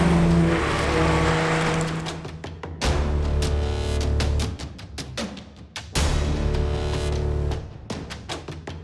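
A modified Porsche 911 GT3 RS (991.2) engine revs hard and climbs through gears, with sharp bursts and crackling breaks between shifts, loud and close.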